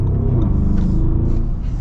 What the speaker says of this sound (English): You get nice V8 sounds. That exhaust is pretty rumbly.